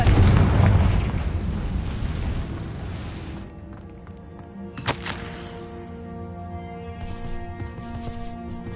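A Confringo spell explosion in the video game Hogwarts Legacy, a loud booming blast at the start that rumbles and decays over a few seconds, followed by a sharp pop and game effects at lower level.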